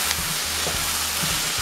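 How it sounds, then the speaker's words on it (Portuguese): A pan sizzles steadily as Bahian seasoning is sautéed for a cassava escondidinho with carne de sol, dried beef. The frying hiss is loud and close, with a few soft stirring scrapes and no talking. "Passou 2 minutos que está refogando aqui"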